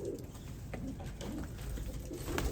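Pigeons coo softly in a coop full of young chicks, a faint low burbling repeated under quiet background rustle.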